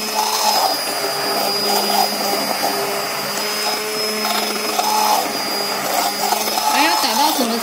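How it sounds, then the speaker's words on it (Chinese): An electric mixer whips cream for tiramisu in a home kitchen, giving a steady, loud motor whir that runs without a break while a person talks over it. "so we are stirring cream"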